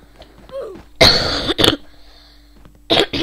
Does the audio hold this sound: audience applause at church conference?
no